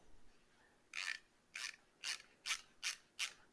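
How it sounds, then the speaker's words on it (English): Quiet, close ratcheting screwdriver giving a regular series of seven or so short raspy clicking bursts, each turn evenly spaced after a brief pause, with no talking. "Very fine ratchet, works really well."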